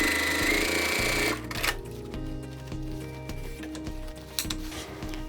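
A sewing machine stitches lining onto a crossbody bag, its motor whine giving way to uneven bursts of needle clatter and fabric handling, close and moderately quiet.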